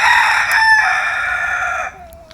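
A rooster crows once, loud and close, its drawn-out call fading abruptly at the end.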